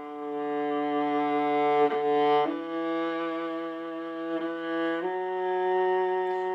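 A viola plays slow stepwise scale notes, each held about a second or two, over a steady sustained drone, bowed, clear and close, with no talking.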